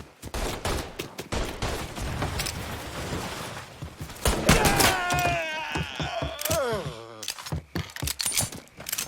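Gunfire in the Mafia 3 video game: rapid bursts of close, loud shots over the first half, then sporadic cracks and impacts, mixed with game character dialogue and effects.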